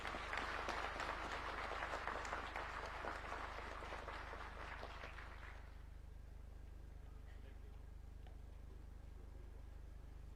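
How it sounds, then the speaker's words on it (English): Applause from a crowd at a university graduation ceremony, a dense wash of many clapping hands that carries on for about six seconds and then fades out, leaving only faint hall ambience. "Let us give them a round of applause."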